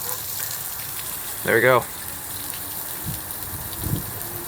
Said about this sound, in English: let's create a fake flood by turning this hose on.